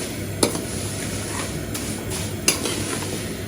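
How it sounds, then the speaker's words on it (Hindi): Vermicelli being dry-roasted in a pan, stirred with a utensil, giving a steady soft hiss and scraping under a couple of sharp clinks of metal against the pan, close by with no talking. "सेवई की भुनाई जो है ना हो चुकी है।"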